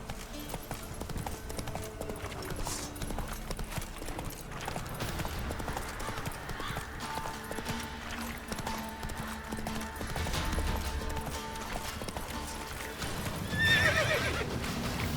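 A horse in The Witcher 3 gallops with a continuous drumming of hooves, joined by a few whinnies, and a louder neigh rises near the end over a background game score.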